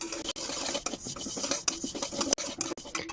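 Moong dal is dry-roasted in a pan, a spoon stirring and scraping the lentils in quick, uneven strokes, close and fairly quiet, with no talk.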